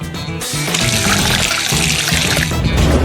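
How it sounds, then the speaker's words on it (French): A Coca-Cola and sugar mixture is poured into a glass in a steady, close, continuous splashing trickle with no talking over it. "Il ne reste plus qu'à verser le tout dans un verre."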